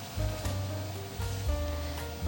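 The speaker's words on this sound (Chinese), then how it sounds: "水已经滚了，把番茄放进来" Tomatoes going into a pot of rolling boiling water: a low, bubbling rumble with a few soft plops and splashes close by.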